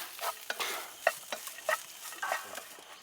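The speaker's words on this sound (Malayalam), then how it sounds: "ഇതുകൂടി ഒന്ന് തേങ്ങയുടെ വെള്ളമൊക്കെ ഒന്ന് വറ്റിച്ചെടുക്കാം" Grated coconut with sugar is stirred in ghee left over from frying banana: soft, repeated spatula scrapes in an uneven rhythm over a light, quiet sizzle, with no voices.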